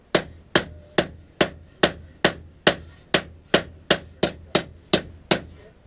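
A mulching lawnmower blade is hammered flat for a fleshing knife, about fourteen sharp metallic blows in an even, steady rhythm, close and loud with no talk.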